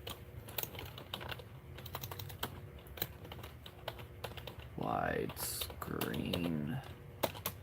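Rapid clicks of typing on a computer keyboard run throughout under a person talking, the keystrokes close and crisp.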